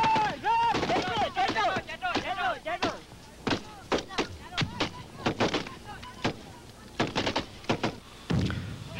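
Soldiers' gunfire in Vietnam War documentary footage, bursts of sharp irregular shots cracking one after another with faint engine hum between them, close and loud, with someone narrator's voice partly mixed in.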